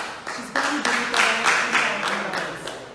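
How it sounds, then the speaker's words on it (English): Applause from an audience for a regular donor, a dense, steady patter of clapping lasting the whole stretch, fairly close, with a voice faintly running beneath it. "Please give her a round of applause again"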